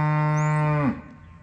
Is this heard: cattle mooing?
yes